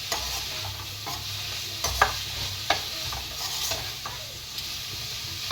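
Onions frying in a pan for spring rolls: a steady soft sizzle with occasional sharp clinks and scrapes of a spoon stirring against the pan, moderately quiet and close, with no talk.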